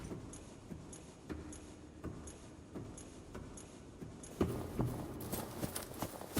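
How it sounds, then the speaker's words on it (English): Footsteps in the underwater survival game Subnautica, a steady series of soft indoor steps, each carrying a small click, quiet and evenly paced, with a louder stretch of steps near the end. "Also, I noticed a rather odd click sound on every step."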